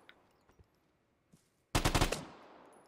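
A burst of rapid gunfire from a weapon in the online shooter Vigor, a quick string of loud close shots after a few faint clicks and taps.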